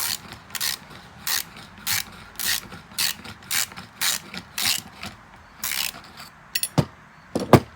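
A hand ratchet clicks steadily while bolts come off a 1974 Ford rototiller during a repair. It gives rhythmic, close bursts of sharp pawl clicks, about two per second, with no talking.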